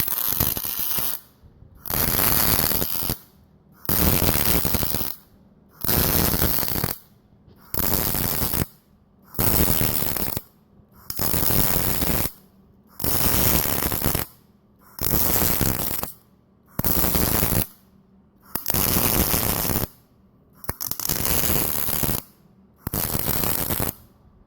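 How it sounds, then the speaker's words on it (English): Welding runs along the rocker area of a 2014 Roush Mustang while a Stifflers FIT subframe system is installed. Loud crackling bursts of about one second each repeat a dozen times in a steady stop-start rhythm, separated by brief silences. "we got a little video of some welding going on here."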